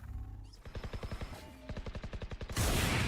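Operator sniper rifle shots in the Valorant video game, heard during a tournament match as rapid rhythmic bursts of firing, ending in a loud broadband blast.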